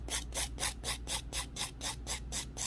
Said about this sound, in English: I'm going to take the little cute file, and I'm just going to file with the